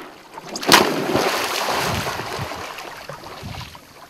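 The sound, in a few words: person falling off a stand-up paddle board into water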